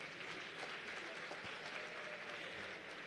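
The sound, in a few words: audience applause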